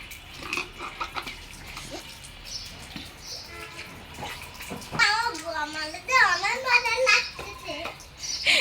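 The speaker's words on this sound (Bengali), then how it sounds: "এই যে ঝর্ণার ব্যবস্থাও করে দিয়েছি।" A water shower sprays over two young sisters in a tub set up as a small pool, a continuous splashing hiss, while the children chatter and squeal loudly over it.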